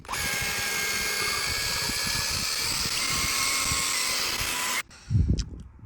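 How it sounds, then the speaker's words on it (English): A car paint polisher fitted with a soft pad whirs steadily and loudly while polishing paint, a continuous high-pitched motor drone that cuts off abruptly near the end, followed by a brief low thump. "let's now switch the pad to the soft pad and try polishing it"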